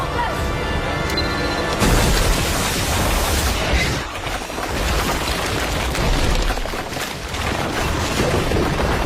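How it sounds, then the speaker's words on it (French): A bomb explodes in an action film: a loud, dense blast of broadband rumble and crashing noise bursts in and sustains for several seconds with debris-like roar, no clear talk over it. "Une bombe!"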